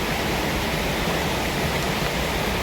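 Water rushes steadily at Kandvan dam, a dense, even broadband roar of flowing stream water heard close and loud, with no voices over it.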